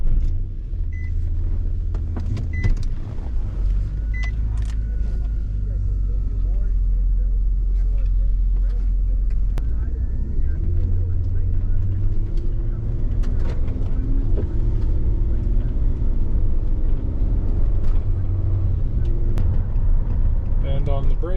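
A Nissan Pathfinder, just fitted with new front brakes and wheel bearings, drives on a road test with a steady low engine and road rumble running throughout, loud and continuous, with a voice talking faintly over it.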